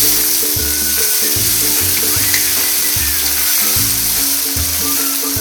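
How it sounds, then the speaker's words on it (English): Tomatoes fry in a pan with browned onions and garlic while they are stirred, making a loud, constant sizzle over a low, rhythmic scraping. "I want to add some tomatoes. Continue stirring."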